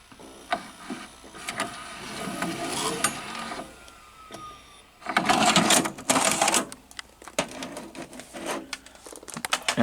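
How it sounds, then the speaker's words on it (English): The tape mechanism of an ION VCR-to-PC player grinds and clatters up close, with mechanical whirring and bursts of louder rattling partway through, and no voices. "the tape mechanism. It does like some sort of a grinding sound"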